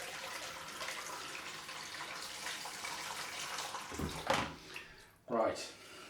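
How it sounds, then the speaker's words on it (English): Tap water running steadily into a shaving bowl, a continuous rushing hiss close by, ending with a couple of splashy surges as the flow is moved or stopped. "I haven't got any water in the bowl."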